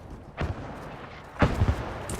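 Two muffled gunshots ring out in Battlefield Firestorm, one short report followed about a second later by a louder, slightly rolling blast, both at a distance over faint game ambience.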